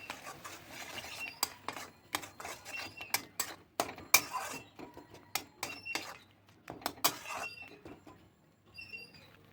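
Palm seed mixture with salt and turmeric being stirred in a pot, heard as a quiet run of irregular clinks and scrapes of a spoon against metal, close by with no talk.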